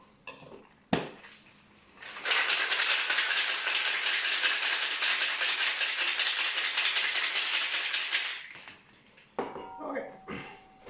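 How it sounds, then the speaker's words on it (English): Aperol sour being shaken hard with ice in a cocktail shaker: a sharp knock, then about six seconds of loud continuous rattling ice, followed by quieter clinks and handling noises. "So we add some ice now to fill the drink."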